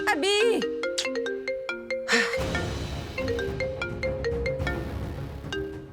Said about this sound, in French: C'est ton téléphone qui sonne.